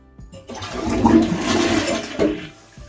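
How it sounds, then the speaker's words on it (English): A household toilet flushing as its bowl is drained during unclogging work: a sharp click of the handle, then a loud rushing swirl of water for about two seconds that gurgles and subsides, close by with no talk. "next we're gonna flush the toilet and drain all this water out that's inside of the toilet"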